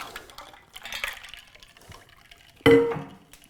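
Filtered drinking water poured into a glass from a faucet, soft liquid trickles followed by a sudden louder splash and bubbling fill that fades over a second, close and clear with no talking.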